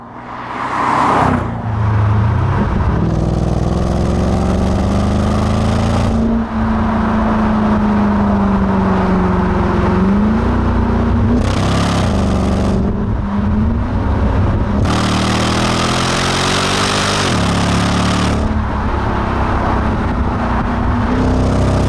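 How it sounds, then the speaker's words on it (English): A 2008 Jaguar XF SV8 saloon driven hard down a road, its engine droning loudly and steadily from inside the car, pitch climbing and dropping through several gear changes over about twenty seconds, with no one speaking. "this thing is still capable of going down this road at a serious lick"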